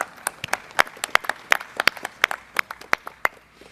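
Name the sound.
applause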